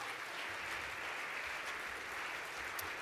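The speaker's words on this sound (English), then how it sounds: "Round of applause for NHR." A crowd at the National Hospital Radio Awards 2013 ceremony claps continuously in a dense, even wash of applause for an award winner, moderately distant, with no pauses throughout.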